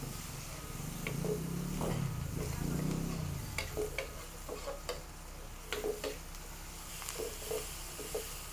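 Plenty of onions and ginger sauté in a pan, giving a soft steady sizzle with intermittent light clicks and scrapes from stirring, while someone speaks briefly early on.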